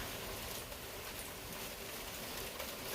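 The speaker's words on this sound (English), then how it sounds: "You hear that rain? It's pouring outside." Heavy rain pouring down outdoors, a steady dense broadband hiss that holds evenly throughout with no voices over it.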